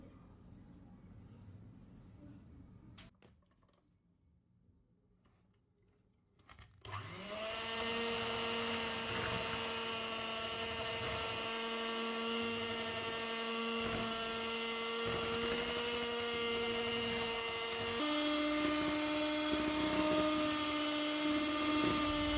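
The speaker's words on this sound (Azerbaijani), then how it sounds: "Bura əlavə edib mikserlə yaxşı qarışdırıram." An electric hand mixer whirs steadily as it beats sugar into cake batter, starting after a short quiet pause and holding a loud, even motor hum with a slight pitch rise near the end.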